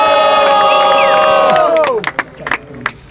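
A live crowd at a rap battle contest semifinal roars, cheers and shouts loudly for a rapper, a sustained wall of voices with whistles that breaks into scattered whoops and cries as it dies down.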